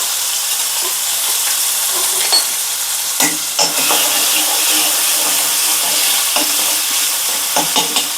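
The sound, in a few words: fennel, cinnamon, garlic, onion, curry leaves sautéing in oil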